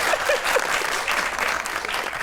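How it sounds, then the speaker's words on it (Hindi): Studio audience at a comedy show bursting into sustained, loud applause with dense clapping that holds steady throughout, no talk over it. "तालियां।"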